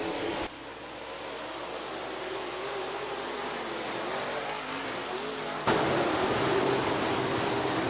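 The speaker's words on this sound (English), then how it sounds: "Green flag racing." Late model and modified race cars circle Rapid Speedway at speed, their engines blending into a continuous broadband roar that swells slightly louder partway through.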